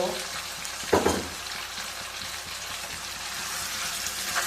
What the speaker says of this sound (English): now this marinated mutton, I will just frying with this onion and other garlic stuff